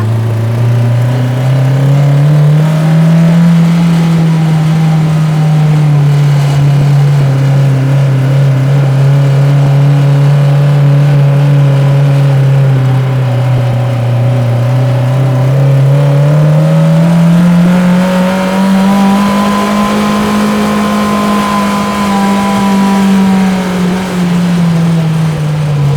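A go-kart's R6 motorcycle engine revs hard with the popping rasp of exhaust leaks, a loud, close, buzzing drone that rises, holds steady, dips and climbs again across the whole stretch without any talk.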